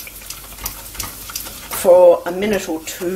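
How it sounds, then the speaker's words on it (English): Butter and plain flour cook in a pan as a roux for béchamel sauce, giving a soft sizzle with stirring scrapes. A person talks over it, and the sizzling grows briefly louder partway through. "I'm adding the quantity of butter, I'm adding the same quantity of flour. So just plain flour. And I'm mixing that up."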